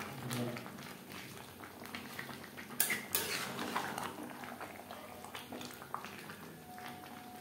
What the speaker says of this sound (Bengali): চিকেনের সাথে ভেজে রাখা আলু বেশ ভালো করে মিক্সড করে দেব।